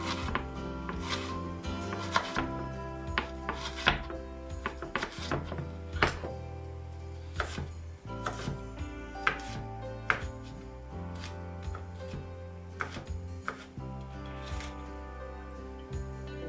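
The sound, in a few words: chopping onion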